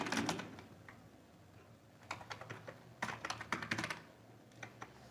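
Keys clatter on a computer keyboard as Python code is typed, a short burst early, then quick irregular clusters of keystrokes in the second half, close and moderately loud with no talking.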